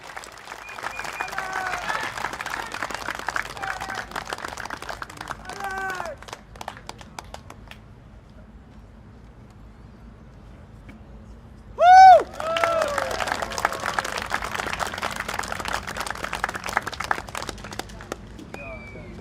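Crowd applause and cheering at an outdoor political rally for the SDP in Marsiling-Yew Tee GRC, a steady wash of clapping with a brief pause and a sharp whistle or feedback squeal midway, voices mixed in among the crowd.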